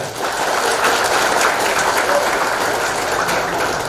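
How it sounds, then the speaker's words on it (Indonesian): Parents and children applaud at a kindergarten ceremony, a loud, continuous roar of clapping that holds steady for several seconds, almost like rushing water. "Mana tepuk tangannya?"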